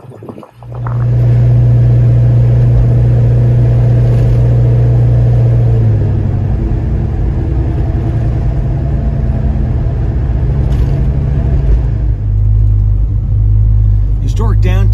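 A 1955 car cruising along Route 66 in Oklahoma, its engine droning steadily and loud up close with a low rumble and road noise throughout, rising slightly in revs toward the end.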